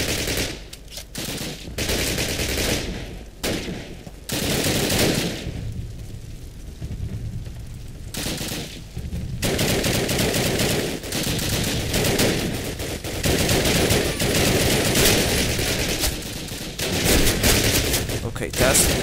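Sustained bursts of rapid Call of Duty gunfire, loud and close, with brief gaps between volleys and continuous rattling throughout.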